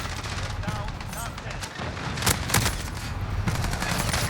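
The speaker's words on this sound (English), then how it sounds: "I'm glad I spawned right in front of you so I can empty this entire 60-round mag into your" Rapid sustained automatic gunfire from a 60-round magazine in Call of Duty, fast dense bursts with booming impacts on the Shipment map, continuing loudly throughout.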